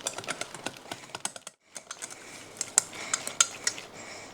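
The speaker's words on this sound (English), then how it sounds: "Start stirring it into a paste." Flour and water stirred into a paste in a bowl, with quick clicking, scraping taps of a utensil against the bowl in a busy close rhythm, briefly pausing, then resuming.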